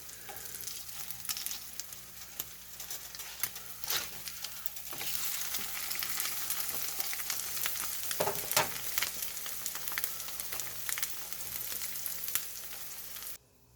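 English muffins toast and an egg fries on a stovetop griddle with a soft, continuous sizzle. Scattered spatula clicks and scrapes come through, the sound is fairly quiet, and there is no speech.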